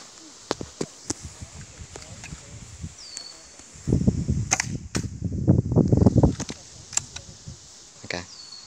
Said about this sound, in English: So let's just get to shooting.